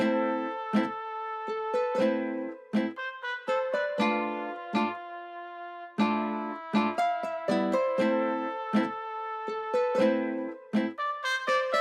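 Spaghetti Western-style trumpet lines and sharp horn stabs from the same trumpet sample play together in a bouncy, rhythmic pattern, loud and close with frequent short pauses.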